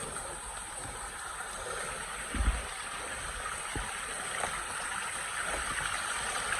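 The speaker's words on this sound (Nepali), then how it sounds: "यस्तो पहाडको खोप्चाबाट आएको पानी" Spring water runs from a small hollow in a hillside near a village, a soft continuous trickle and gurgle with a couple of faint thumps, no voices.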